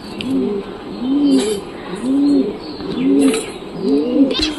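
Caged pet pigeons coo in a steady rhythm, about five rolling, arched calls repeating roughly once a second, close and moderately loud, with faint chirps and light rustling behind them.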